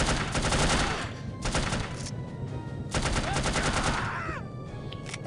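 Gunfire in the video game No One Lives Forever, rapid bursts of automatic shots in several volleys with short gaps between them, close and loud.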